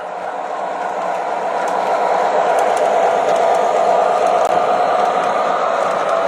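MTH O gauge model trains run in continuous mode under automatic DCC control, giving a steady, close whirring rumble that swells a little louder after the first couple of seconds, with faint clicks on top.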